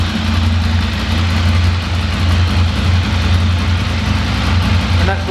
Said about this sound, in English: that's what those standard exhausts sound like with the decap pipe